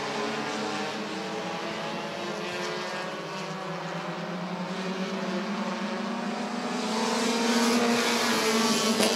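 Race cars in a 25-lap Bandit feature at Rockford Speedway roar together at the green flag, a dense, sustained engine drone that swells louder toward the end as the pack passes closer.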